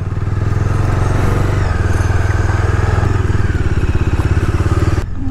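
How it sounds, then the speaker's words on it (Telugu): A 250cc motorcycle with a dual-barrel exhaust idles and runs close by, a loud, steady engine thrum with fast rhythmic exhaust pulses that cuts off abruptly near the end. "డ్యూయల్ బ్యారెల్ ఎగ్జాస్ట్ అది."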